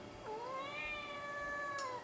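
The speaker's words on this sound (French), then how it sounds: "Je sais mon chat." Domestic cat giving one long, drawn-out meow with a rising then slowly falling tone, fairly close and clear in a quiet room, followed by a faint brief click near the end.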